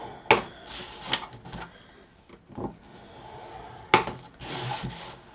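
Cardstock is scored for a Thanksgiving craft organizer with a few rough scraping strokes at irregular intervals, each a short close rasp followed by quieter rubbing.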